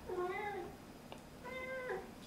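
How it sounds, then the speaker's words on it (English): A domestic cat meows twice, close and clear, with two drawn-out calls separated by a short pause in an indoor room. "That's my cat."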